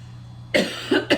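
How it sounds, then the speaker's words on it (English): A short burst of coughing: one sharp cough followed by two quicker ones, close and clear against a low steady hum. "Excuse me, as I cough"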